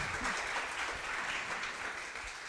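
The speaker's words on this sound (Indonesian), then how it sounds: "Nah, kalau benar saya mau minta tepuk tangan yang meriah dulu." An audience claps in warm, sustained applause at a post-election political dialogue, a steady dense wash filling the hall with no talk over it.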